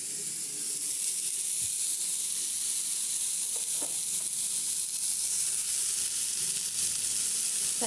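An omelet fries in a pan with a loud, continuous hiss and sizzle that holds steady throughout, with no voices.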